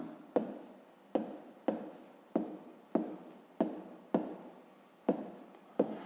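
A pen scratches out handwriting during a fifth-grade math exercise, in a string of sharp strokes each landing with a tap and trailing off, nine or so in steady rhythm, quiet and close with no talking.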